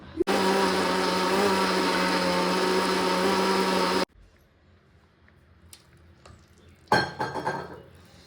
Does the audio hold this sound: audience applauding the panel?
no